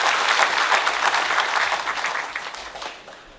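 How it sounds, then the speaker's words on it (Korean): Union delegates at a national labor federation's extraordinary convention giving a loud round of applause that fades gradually toward the end. "다시 한번 이용동님께 힘찬 격려의 박수를 부탁드리겠습니다."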